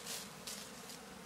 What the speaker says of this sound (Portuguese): Tá muito bonito esse enxame